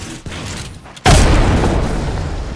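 A frag grenade detonates in a shooter video game with a sudden, loud, deep boom that rolls into a long rumbling decay after a quieter lead-in of faint shots and movement.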